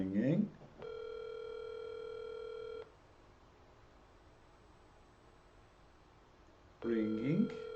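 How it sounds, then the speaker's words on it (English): An unanswered telephone rings once through a phone line, a steady buzzing tone lasting about two seconds before a long quiet gap, with a voice talking briefly before and after. "Just continues to ring."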